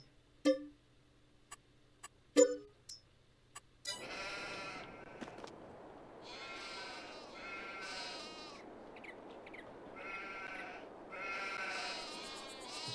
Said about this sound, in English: More sheep here.